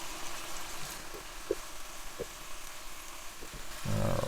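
Asparagus hits melted fat in a pan while making soup, giving a continuous close sizzle broken by a few light taps and stirring knocks, with a louder burst of frying near the end.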